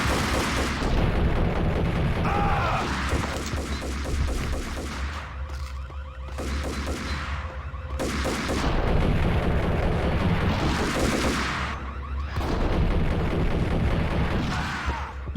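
Gunfire in Max Payne, with loud, dense, continuous shooting and booming blasts that keep going through most of the stretch and ease off briefly twice.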